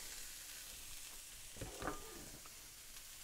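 Onions and bell peppers browning in a hot pan give a steady, close frying sizzle, with a brief stirring clatter midway through and no voices.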